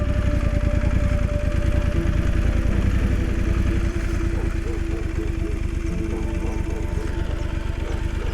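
An off-road motorcycle engine idles close by with a steady, rapid chugging rhythm that continues without pause.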